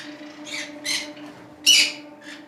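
A pineapple conure at a bird farm lets out several loud, harsh squawks in separate bursts, the sharpest one near the end, over a faint steady hum.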